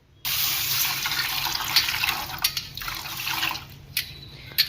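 Moong dal being rinsed in water in a kitchen, a steady close splashing and running-water wash with a few sharper sloshes and clinks as the lentils are swished around.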